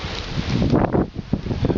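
Steady wind buffeting the microphone, a continuous low roaring rush with gusty swells and dips throughout, no voices.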